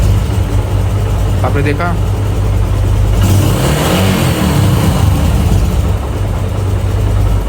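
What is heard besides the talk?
Yamaha YBR125 motorcycle engine revving and returning to idle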